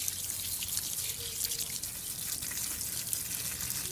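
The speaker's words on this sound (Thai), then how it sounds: "เราต้องเอาดินออกโดยการฉีดน้ำว่าออกไม่หมดนะครับต้องใช้การฉีด" Water sprays steadily to wash soil from the roots of a potted desert rose plant, a continuous close hiss and splatter with no talking.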